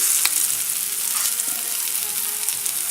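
Chicken balls sizzle steadily in a frying pan, a continuous bright crackle of browning with faint stirring or shifting sounds, close and unbroken with no talk.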